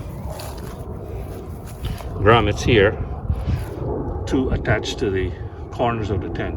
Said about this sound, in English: Sorry about the plane going overhead.